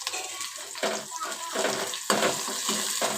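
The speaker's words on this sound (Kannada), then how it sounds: "ಚೆನ್ನಾಗಿ ಈರುಳ್ಳಿ ಫ್ರೈ ಆಗೋವರೆಗೂ, ಕಲರ್ ಚೇಂಜ್ ಆಗೋವರೆಗೂ ಹುರಿಬೇಕು" Onions frying in a pan: a close, busy sizzle with bursts of hissing and stirring that rise and fall in quick pulses.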